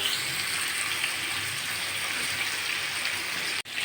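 Steady, dense sizzle of pointed gourds (potol) frying in hot oil, close and continuous with no talk.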